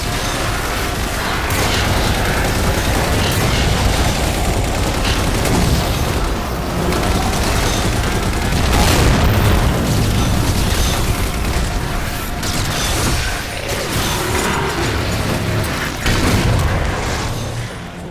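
Turrets firing in Halo 4 combat: continuous loud booming and rapid gunfire bursts over a dense, rumbling battle din, with no clear talk.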